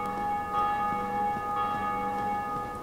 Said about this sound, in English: I guess that I should have done it before I rang the bell.